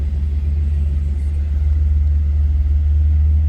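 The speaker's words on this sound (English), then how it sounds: "396 fires up." A 1966 Chevrolet Impala SS with a 396 V8 rumbles steadily after starting, a loud, close, deep idle holding even throughout with no voices.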